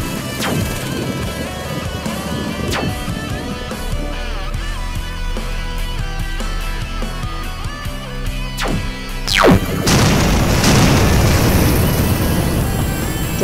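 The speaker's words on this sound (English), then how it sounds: "Death beam blast." Electronic blast effect from a mechatronics go-kart game's transonic proton death beam: wavering synthetic tones, then a sharp sweeping zap that bursts into a loud, sustained roaring noise.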